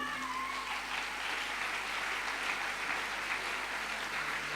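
Church congregation applauding and cheering together, a steady dense wash of clapping that holds loud and even throughout with no pauses.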